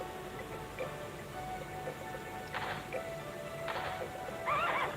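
A horse in the video game The Legend of Dragoon neighs in a few short, separate bursts over a quiet background with faint ticking.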